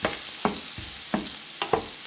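Onions frying in a pan for Filipino arroz caldo, a steady sizzle broken by several sharp stirring scrapes and knocks spaced through the short stretch, close and fairly loud with no talking.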